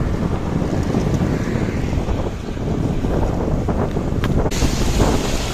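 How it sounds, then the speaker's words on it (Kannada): A motorbike ridden through heavy rain on the road from Mysore to Nanjangud, with a steady, dense roar of rain and rushing wind all the way through and no voices. "ಮಳೆ ಜೋರಾಗ್ತಿದೆ ಸ್ನೇಹಿತರೆ ಮಳೆಯಲ್ಲಿ ಸ್ಟಾರ್ಟ್ ಆಗ್ಬಿಟ್ಟಿದೆ ಮಳೆಯಲ್ಲಿ ಬೈಕ್ ಕೊಟ್ಟು ಹೋಗ್ತಾ ಇದ್ದೀನಿ"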